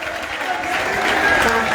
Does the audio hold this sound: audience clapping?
yes